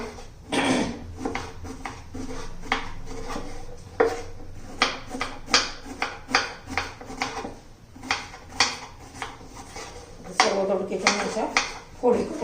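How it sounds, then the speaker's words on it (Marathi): A kitchen knife slices ridge gourd into thin pieces on a board, with irregular sharp taps and cutting knocks spread over several seconds, heard close up while someone talks throughout. "पातळ पातळ असे काप करून घ्यायचे"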